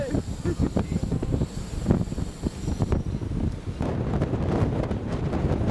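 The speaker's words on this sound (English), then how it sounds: "It's blowing 30 knots. It is so windy." Strong wind of about 30 knots buffets the microphone in loud, gusty rumbles, roaring continuously and close without letting up.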